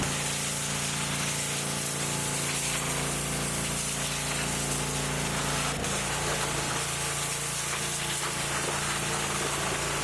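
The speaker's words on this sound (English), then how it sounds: "maybe we'll try and pressure wash on the inner fenders, the firewall" Steady loud hiss of a pressure washer spraying continuously inside a Dodge Challenger engine bay, with an engine droning underneath and a brief sharp change near the middle.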